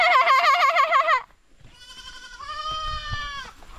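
A goat bleats twice nearby, first a long wavering, quavering cry and then, after a short pause, a steadier drawn-out bleat over faint background rustle.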